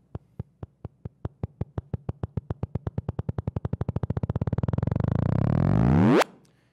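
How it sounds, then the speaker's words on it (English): Sonified gravitational-wave signal from merging eccentric black holes: a train of sharp clicks starting slow and spaced, quickening steadily into a dense buzzing rasp, then sweeping upward in a rising chirp that cuts off abruptly. "if you actually listen to what this gravitational wave sounds like, it sounds like a lawnmower"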